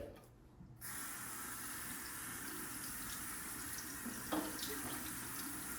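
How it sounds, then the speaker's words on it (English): Dirty water runs from a tray down into a sink as a steady, faint splashing stream, with a brief clatter near the end and no talk. "you can definitely see all the dirt falling, all the dirty water falling down into the sink from this tray"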